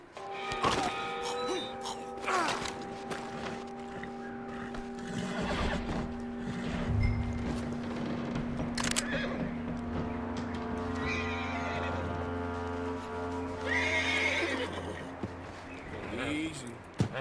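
A horse in the video game Red Dead Redemption 2 gives loud, drawn-out neighs and whinnies amid scattered hoof clip-clops, with game music and a voice talking over it.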